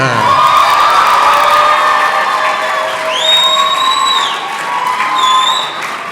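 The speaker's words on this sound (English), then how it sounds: "Please give your applause to Rosie Bader." A large crowd at a high school Shakespeare monologue competition applauds and cheers loudly and continuously for the winner, with high whoops and shouts rising above the sustained roar.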